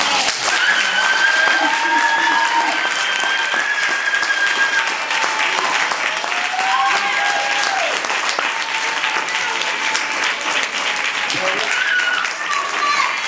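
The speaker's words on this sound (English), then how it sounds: "Let's give it up for my man Wali, man" Loud, sustained applause from a crowd, steady clapping filling the whole stretch with some cheering mixed in.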